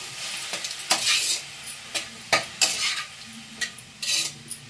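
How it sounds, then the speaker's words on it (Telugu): Gurugaku curry being stirred in a small home-kitchen pan, with a steady sizzle under a series of sharp spoon scrapes and clinks against the pan, close and fairly loud. "కాస్త మిక్స్ చేసుకున్నాము"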